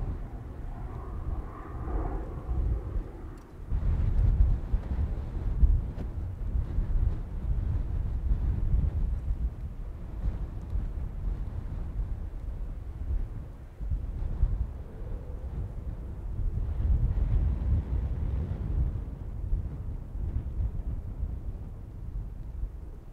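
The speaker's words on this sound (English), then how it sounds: "And that wind's changed too, that's fucking right at us" Strong wind roaring across a bush fire in the Flinders Ranges, South Australia, a loud, steady low rumble and buffeting against the microphone, with gusts rising and falling throughout.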